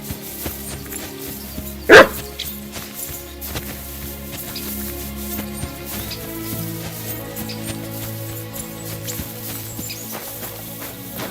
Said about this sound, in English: Barking. He's coming from over there.